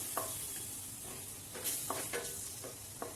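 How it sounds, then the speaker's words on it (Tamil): Masala sizzles in a pan after a splash of water is added, with a soft continuous fry under repeated close stirring scrapes and taps, no voices. "இப்போது கொஞ்சமாக தண்ணி விட்டுக்கிறேன், ஏன்னா கருகுது லைட்டாக, தண்ணி விட்டுக்கலாம்."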